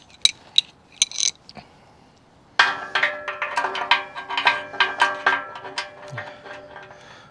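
A ratchet wrench tightening bumper bolts on a Jeep Gladiator with a 3/4 and an 8 mm socket: a few scattered metallic clinks, then a loud, close run of rhythmic ratcheting strokes with ringing pawl clicks, no talking.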